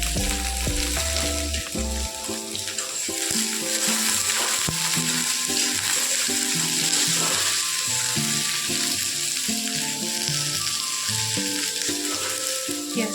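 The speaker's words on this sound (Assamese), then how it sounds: "পিঁয়াজখিনি অকণমান ৰঙচুৱা হোৱালৈকে ভাজিম।" Onions and a bay leaf fry in oil in a wok for pork curry, giving a loud, continuous sizzle with occasional stirring scrapes and clinks, with no voices.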